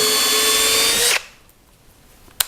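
A Bosch GSR 12V-35 Professional cordless drill-driver in first gear whirs steadily at a constant pitch for about a second, then cuts off abruptly, followed by quiet and a brief click near the end.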